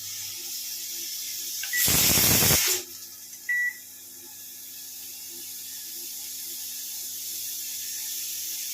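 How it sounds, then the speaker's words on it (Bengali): A pressure cooker with mutton inside lets out a single loud, hissing steam whistle burst lasting about a second, followed by a brief softer hiss, then quiet kitchen background. "আর এই পাশে মাটনটা সিটি দিয়ে নিচ্ছি"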